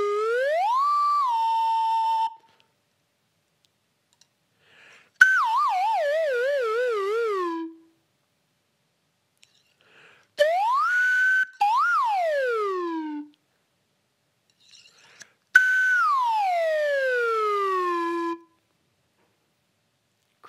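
A real slide whistle plays four separate gliding phrases, sweeping up and down in pitch with wavering slides, each a few seconds long with pauses between, clear and alone in a music classroom.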